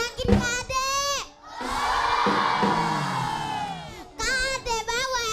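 A group of children cheer and shout together, bursts of high excited voices at the start and end around a long sustained collective yell in the middle.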